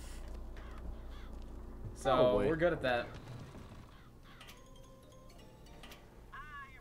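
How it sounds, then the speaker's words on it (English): Crows cawing in the video game Bioshock Infinite, a short burst of harsh calls standing out loudly over game ambience, with someone talking around them. "Oh, geez, these crows are just everywhere."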